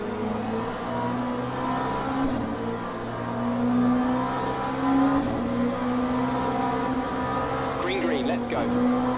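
Race car engines in the Le Mans Ultimate racing game hum and rev steadily at the start, with rising and falling engine tones that persist throughout, and a person talks over them.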